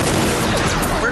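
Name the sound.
gunfire from an automatic defense system in a cartoon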